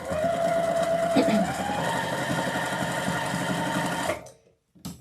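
A sewing machine stitches fabric for a red and black striped witch Halloween wreath, its motor running loud and close in a steady rapid whirr for about four seconds before stopping abruptly.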